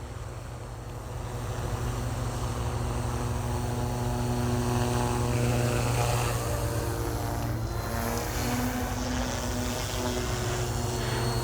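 Continuous whirring drone of an OMPHOBBY M2 V3 model helicopter's rotor and motor flying nearby at low head speed, steady and fairly loud throughout.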